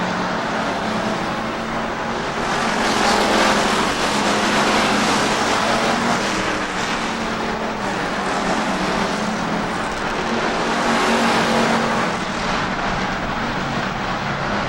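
Stock cars racing at Rockford Speedway in 1994, a dense continuous roar of many engines in the pack, swelling and easing as cars pass through the corners, loud and steady throughout.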